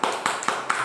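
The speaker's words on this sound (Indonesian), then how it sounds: "Kasih tepuk tangannya" Audience clapping in a classroom setting, a few sharp separate claps spaced evenly in a brief burst, close and moderately loud.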